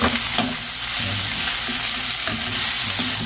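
A large mud crab sautéing in a pan gives a loud, steady sizzle and crackle throughout, with faint stirring scrapes under the hiss and no voices.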